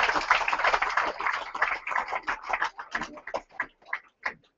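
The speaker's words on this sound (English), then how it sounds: "Give me a nice round of applause." Audience applause at a Featherstone Rovers rugby league squad number announcement, dense and busy at first, then thinning into scattered, separate claps that fade out.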